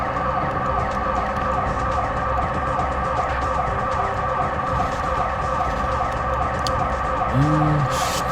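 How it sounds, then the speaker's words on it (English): Inside the game GTA San Andreas, a car's alarm wails steadily and loudly while the engine putters underneath, continuous and unbroken throughout, with a brief sliding tone near the end. "kind of quietly over the horrible alarm and also the sound of the car puttering"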